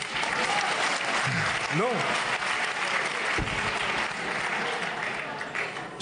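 Audience applause rings out at a French political rally speech, a dense steady clapping throughout with a speaking voice briefly audible over it partway through.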